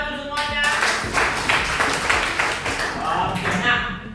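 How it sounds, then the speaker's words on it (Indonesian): A classroom group clapping hands together, a burst of many overlapping claps in steady rhythm for a few seconds, mixed with children's voices and chatter. "Tepuk tangan dulu semuanya."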